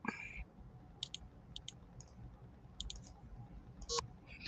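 Sparse computer keyboard typing and mouse clicks in short bursts, fairly close, over a steady low background hum with no talking.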